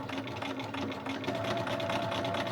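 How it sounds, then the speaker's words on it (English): A sewing machine stitches a pocket onto a fabric panel cut from bed sheets, a steady close whirring hum that runs continuously without breaks. "I'm going to be sewing down on this edge and this edge to attach it to this panel right here"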